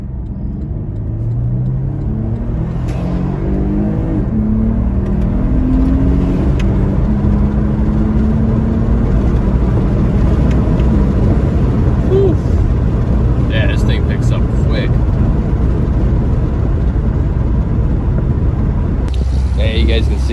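A 2012 Porsche Panamera 4 in Sport Plus launches from 0 to 60, the engine rising sharply in pitch through the first seconds and then settling into a loud, steady rumble with road and wind noise.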